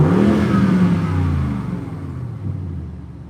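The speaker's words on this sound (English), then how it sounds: "I'll get you some revs." An Audi RS7 engine revs up loudly, then the pitch falls as it winds back down toward idle, with a deep rumble throughout.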